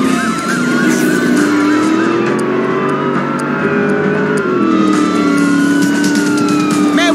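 Police sirens wail loud and close while chasing in Driver: San Francisco, several overlapping rising and falling tones over a car engine roaring steadily, with no speech.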